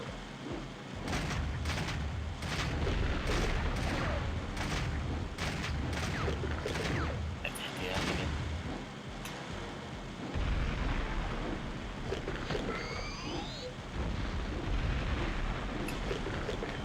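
Repeated heavy blasts from the Firestorm Cannon in Turok 2: Seeds of Evil, a loud, continuous barrage of booming shots that runs the whole stretch with little pause.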